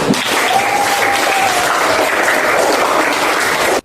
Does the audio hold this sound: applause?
yes